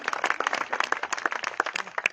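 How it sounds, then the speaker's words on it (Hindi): A crowd at a cricket tournament event claps to honour a cricketer, a moderately close, uneven patter of individual hand claps in quick irregular succession from a small group. "मेहुल सिंह के लिए आप सब लोग एक बार जरा ताली बजा के उनका अभिनंदन कर दीजिए"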